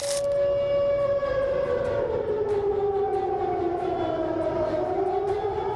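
A loud, steady river flood warning siren wails continuously, its pitch slowly sliding down and back up, with no talking.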